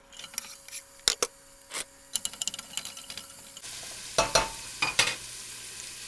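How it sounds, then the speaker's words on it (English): Chopped red onion sizzles in a pot with a soft, steady hiss, broken by several sharp clicks and scrapes from stirring. "Can you hear the sizzle?"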